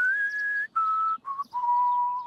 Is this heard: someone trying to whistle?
yes